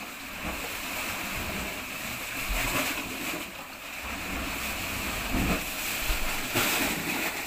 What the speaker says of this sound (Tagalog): Kalalakas ka ng alon.